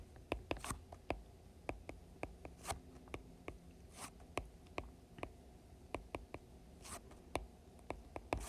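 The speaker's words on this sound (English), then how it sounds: "So I'm going to write right here" Pen writing on paper during a pre-calculus lesson on matrices, quiet close scratches and rapid ticking strokes in irregular bursts over a hushed background, with no talking.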